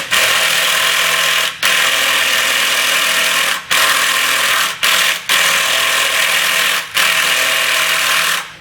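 A Ryobi cordless power tool works at muddy bolts on a Suzuki LT80 quad in steady loud whirring bursts, each cut off by short pauses, five stops across the stretch.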